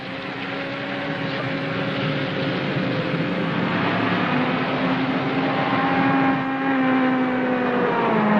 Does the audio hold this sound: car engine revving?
yes